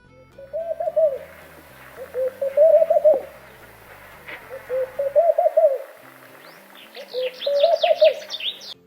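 Soft bubbling laughing dove coos in short rolling phrases, repeated several times with pauses between, close and clear; a few faint higher chirps join near the end.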